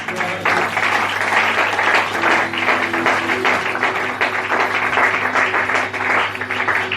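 A church congregation applauding and cheering for the Lord during a Holy Spirit service, sustained dense clapping with a steady hum and some voices underneath, continuous throughout.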